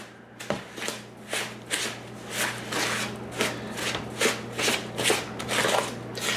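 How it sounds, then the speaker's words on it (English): A spoon stirs packed brown sugar and butter in a bowl, making close, rhythmic scraping and squishing strokes, about a dozen regular pulses with a low steady hum underneath and no speech. "now I'm going to stir it together, the sugar and the butter"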